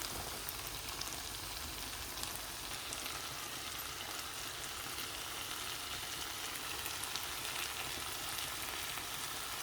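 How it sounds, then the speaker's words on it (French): Vegetables and spices simmering under a lid in a pan, a soft, even bubbling hiss held at low level and unbroken for the whole stretch, with no talk. "je vais couvrir et je vais laisser mijoter quelques minutes"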